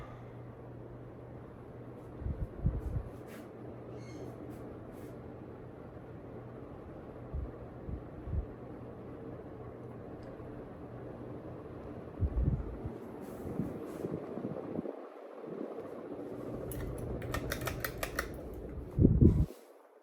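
A Hunter/R&M 52-inch low-profile ceiling fan from around 1985 spins down with a soft, steady whir and faint hum, broken by occasional light clicks, knocks and rattles near the end.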